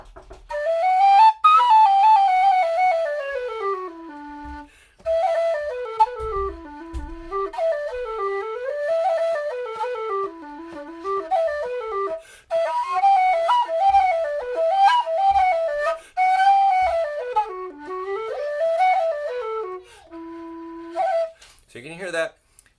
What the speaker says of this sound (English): It's a breathier whistle, quieter on the bottom end